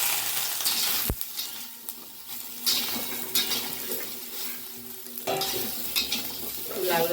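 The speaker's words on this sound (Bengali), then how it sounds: "সামান্য তেলে সোয়াবিনটা একটু আগে ভেজে নেব।" Soybean chunks frying in a little oil in a pan, a steady sizzle with occasional stirring scrapes and clinks of a utensil against the pot, close and continuous.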